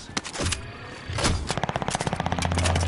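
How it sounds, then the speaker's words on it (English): Video game gunfire during a Resurgence duos match: a few single shots, then a rapid automatic burst of evenly spaced loud reports that runs to the end, with no talking over it. "Do you know where we're getting shot from?"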